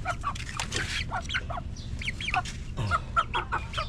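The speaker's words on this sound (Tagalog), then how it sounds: "Ito na yung mga manok ko." Several chickens cluck and squawk in short, scattered bursts at moderate distance, with a low background rumble.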